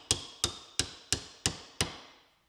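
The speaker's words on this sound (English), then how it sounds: "tap with the hammer until it reaches the other pieces underneath" Six sharp hammer taps on nails being driven into a DIY acoustic studio panel, evenly spaced and close, each a crisp strike with a short ringing decay, no talking.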